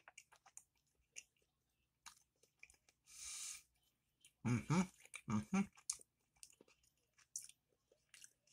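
Close, quiet chewing of cheese as part of a beer-and-cheese pairing tasting, with a short burst of moist crunchy bites in the middle, a brief hiss-like rustle just before, and scattered small mouth clicks around it.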